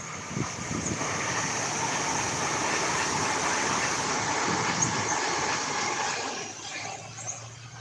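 A Metro train on the line into Sunbury rumbles past at steady volume for several seconds, a broad roar of wheels on rails that fades slightly at the end.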